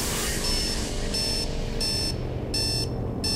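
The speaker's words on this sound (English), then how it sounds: "Yeah, shut that clock up." An alarm clock rings loudly in the video game Dead Space 3, a bright electronic ringing repeating in regular bursts over a steady low background hum, with no voices.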